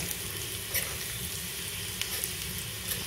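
Garlic frying in oil until it turns reddish, for a Marathi spinach bhaji: a dense, even hiss of close sizzling with a few sharp pops, no talk.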